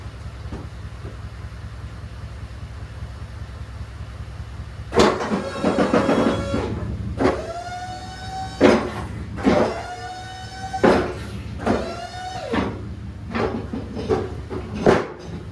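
Hydraulics on a Boss snowplow cycle through their motions: a steady low pump hum with repeated whining bursts and clunks as the blade moves, loud and close.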